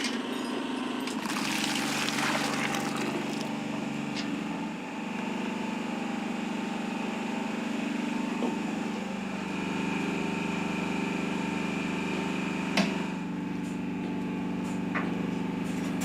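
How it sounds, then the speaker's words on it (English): A noisy generator powering a milking machine drones throughout at moderate volume, with a brief hiss of water or air early on and a sharp click later. "A milking machine powered by a noisy generator takes over the task."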